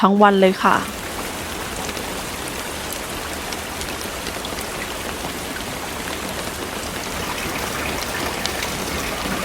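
Steady rain falling on a valley town in India, a dense, even hiss of drops on surfaces that stays close and constant throughout, after a brief voice at the very start.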